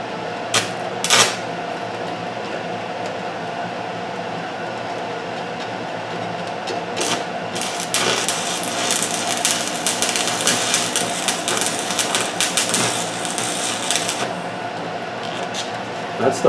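A ventilation fan drones steadily in a cast iron welding shop, with sharp crackling bursts from the welding on top and a voice talking briefly over the noise, close and moderately loud.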